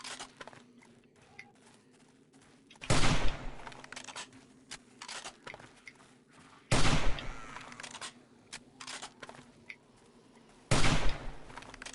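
Three separate bursts of gunfire in a 7 Days to Die zombie fight, each a short rapid volley spaced a few seconds apart, loud over a quiet game background with soft footsteps.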